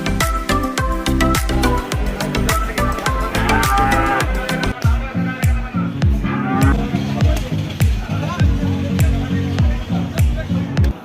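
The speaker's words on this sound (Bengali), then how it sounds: "এদিকে আর একটা গরু দেখতে পাচ্ছি বিশাল বড় এক ষাড় গরু" A large Brahman or Sahiwal bull at a cattle market moos loudly several times in deep, drawn-out calls, with people talking and rhythmic background noise throughout.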